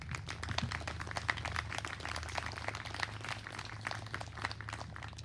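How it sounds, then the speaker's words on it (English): A school audience at a West Road moving-up ceremony applauds the families, a steady wash of many hands clapping at an even level throughout, with a low hum underneath. "let's give our families a round of applause for all their help and effort"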